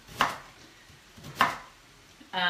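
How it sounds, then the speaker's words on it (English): Knife chopping sweet potato on a board: two distinct firm chops about a second apart, close and clear, followed by a brief clatter at the end. "so chopping this sweet potato, we got 2 of them"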